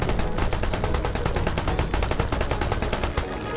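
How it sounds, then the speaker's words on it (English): Aircraft machine guns fire in War Thunder, a rapid, dense burst of rattling shots that stays loud and close for the whole moment, with a couple of brief gaps in the stream. "I will get him with these stupid machine guns."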